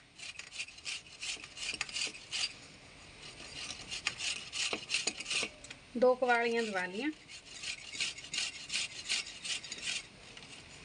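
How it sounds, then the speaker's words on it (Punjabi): Boiled potatoes are rubbed against a metal kitchen grater in quick rasping strokes while dal pakoras are prepared, the scraping close and rhythmic, with a brief spoken phrase midway. "ਹੁਣ ਇਹਨਾਂ ਨੂੰ ਆਪਾਂ ਆਲੂਆਂ ਨੂੰ ਕੱਦੂਕਸ ਕਰ ਲੈਂਦੇ ਇਹਦੇ ਵਿੱਚ ਹੀ।"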